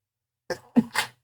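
A single sharp sneeze bursts out of silence in a quick two-part rush, close and fairly loud, then fades.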